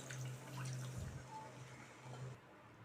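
About two and a half cups of water pour into a pan for a hilsa fish curry, a soft splashing gush that fades to faint trickles and drips under a low steady hum.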